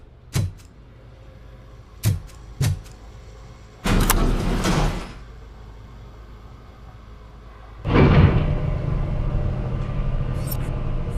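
Elevator doors slide shut with a low rumble in RoboCop: Rogue City, followed after a few seconds by a swelling mechanical hum as the car starts to rise. A few sharp clicks come first, and no one speaks.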